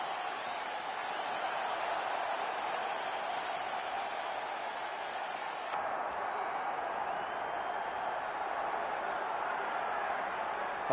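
A large MMA event crowd roars and applauds continuously for the full stretch, a steady dense wash of cheering and clapping with voices mixed in and only a slight dip in brightness midway.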